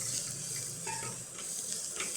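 Lady finger (okra) gravy with turmeric stirred in a pan, with steady close sizzling and soft scraping of the stir, with no talking.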